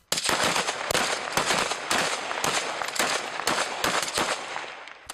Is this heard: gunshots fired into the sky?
yes